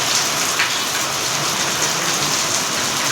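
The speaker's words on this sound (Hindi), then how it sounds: "बहुत ही मज़ेदार बारिश हो रही है" Steady rain falls in a continuous, even hiss with fine patter, fairly loud and close, with no other sounds standing out.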